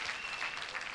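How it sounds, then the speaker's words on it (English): Audience applause at a church youth conference, a brief dense wash of clapping from a crowd, steady and fairly distant throughout. "Let's put a round of applause again for Pastor Chidongo."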